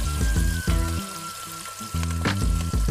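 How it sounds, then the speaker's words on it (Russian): Lamb meat goes into a pan of frying onions, a continuous sizzle and crackle close up, briefly dipping before the frying surges loud again; a steady tonal hum runs underneath. "Мясо добавим к луку."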